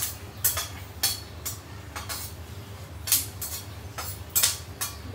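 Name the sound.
nuts and seeds dry-roasting in a pan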